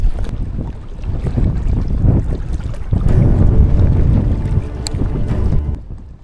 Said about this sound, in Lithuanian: Vėjas tai monstrinis. Žiauriai didelis pakilo.